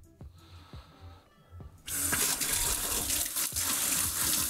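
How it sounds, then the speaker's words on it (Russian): Tap water bursts on and runs hard into a container while brewing gear is rinsed. It gives a loud, steady splashing rush after a quieter start with a few light knocks. "Беру, открываю водичку"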